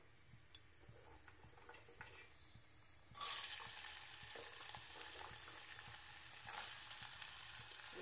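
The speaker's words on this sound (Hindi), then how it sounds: "तेल गर्म हो गया है, अब इसमें डालेंगे दो तीन छोटी लाल मिर्च के टुकड़े, बीटरूट।" Beetroot and small pieces of red chilli drop into hot oil: a quiet background gives way at once to a loud, dense crackling sizzle that carries on steadily to the end, heard close with no speech.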